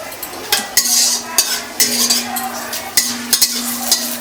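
Vegetables tossed into a pan of dried red chillies frying in hot oil, a loud close sizzle broken by repeated scraping stirs and clatters of a spoon against the pan.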